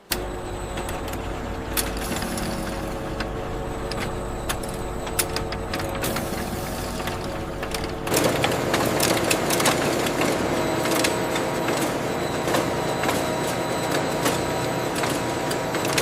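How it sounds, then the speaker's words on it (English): Bamboo tissue paper converting machines run together in a factory hall, giving a dense, continuous mechanical clatter with rapid ticking that turns suddenly louder and harsher about halfway through, with no voices. "The converting hall runs every machine simultaneously, each one transforming a jumbo roll of bamboo tissue into the finished product"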